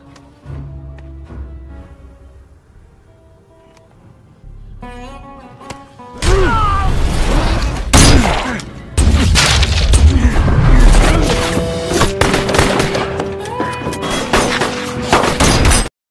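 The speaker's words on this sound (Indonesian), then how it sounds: "Dan aksi tembak-menembak pun kembali terjadi." A gunfire exchange from the 2015 action film Close Range. It opens with quiet tonal music, then loud dense shots, bangs and impacts burst in and keep going, with score running underneath.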